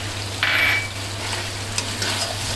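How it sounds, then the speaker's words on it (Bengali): A steady sizzle of beef frying with onions in a pan, with a brief louder hiss early on and faint scraping near the end. "এই দেখুন মাংসটা প্রায় ভাজা ভাজা হয়ে গিয়েছে"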